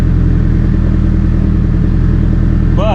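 A BBR 700 engine idles close and loud with a fast, even low throb and a rough mechanical clatter over it, holding steady throughout, and a brief faint whine rises at the very end.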